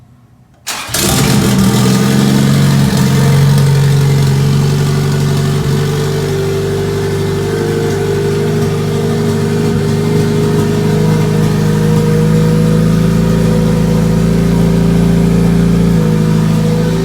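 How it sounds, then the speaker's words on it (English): A car engine, just reinstalled after a transmission swap, cranks and catches abruptly after a brief quiet moment, then settles into a loud, steady idle with a constant low hum and slight fluctuations, no voices. "we're gonna go ahead and start the car up"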